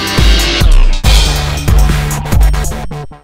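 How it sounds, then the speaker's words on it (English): Dubstep drop built in FL Studio, with heavy rhythmic bass hits and dense synth layers, plus trimmed reverse cymbals that swell in and cut off with a drop in volume, loud and upfront with no voice. "I've cut off the end of these two reverse cymbals and added a drop in the volume as well"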